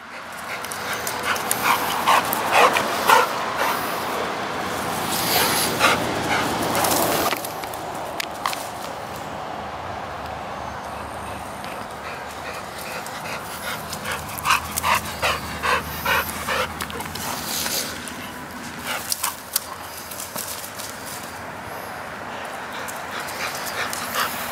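A dog panting, whimpering and giving occasional barks while playing ball with its owner, close to the microphone, with uneven bursts of activity and footsteps between quieter moments.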